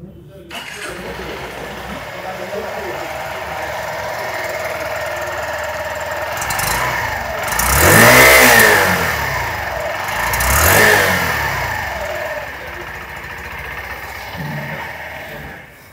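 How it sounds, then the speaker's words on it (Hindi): A Honda Shine 100cc motorcycle engine runs steadily, rising in two brief revs before settling back to a smooth idle, close by. "इंजन की आवाज़ मैं आपको सुना देता हूँ यानी कि एग्जॉस्ट नोट"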